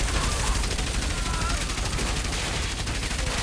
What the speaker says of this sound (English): Machine guns are very bad.